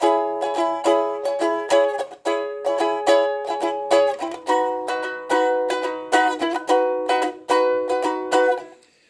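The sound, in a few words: ukulele strumming pattern for a song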